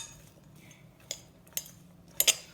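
Spoon or utensil clinking against a bowl while mixing potato pakora batter with coriander, a few sharp isolated clinks spaced apart over a quiet background.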